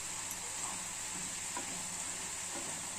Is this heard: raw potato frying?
yes